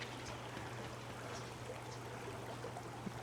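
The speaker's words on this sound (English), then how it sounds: "listen to the water." A stream flows in the Sierra Nevada foothills at Murphys, California, a faint, even trickle and wash of water heard alone at a distance.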